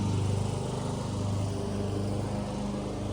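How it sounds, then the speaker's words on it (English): A lawn mower drones steadily on a summer homestead, a continuous rumbling engine hum with no break, moderately loud and alone. "Taylor's mowing"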